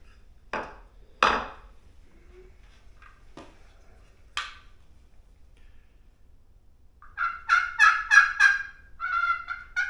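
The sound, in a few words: turkey slate call imitating turkey sounds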